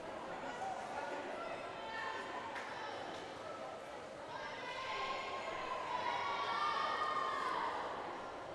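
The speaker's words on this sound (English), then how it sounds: "Teammates are cheering him on." Teammates cheer on a swimmer in lane 8 of a 500-yard race at a high school swim meet in an indoor pool. Steady, echoing crowd shouts and yells continue throughout, with voices mixed in.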